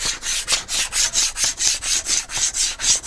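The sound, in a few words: scraping glue off a craft mat with a ruler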